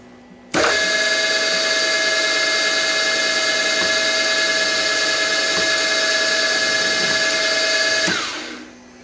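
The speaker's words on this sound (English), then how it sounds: "Okay, let's drill." A power drill fitted with a normal drill bit whirs at a steady high pitch for about eight seconds, starting abruptly and then winding down at the end.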